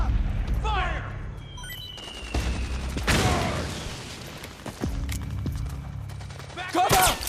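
Rapid gunfire and explosive booms from a battle in the video game Metal Gear Solid 4, with bursts and sharp blasts throughout and shouted commands from soldiers over the shooting.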